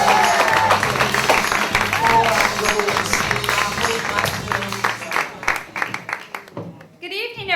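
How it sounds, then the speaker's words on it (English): An audience at a stand-up comedy show claps and cheers loudly for a student comedian, the applause holding strong before gradually thinning out and giving way to a single voice near the end. "Here on applause for one of our advanced students"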